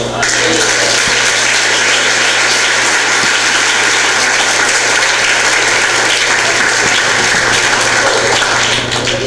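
A church congregation applauds during an apostolic preaching service, a loud, dense, continuous wash of clapping that holds steady for about nine seconds, with no break or pause.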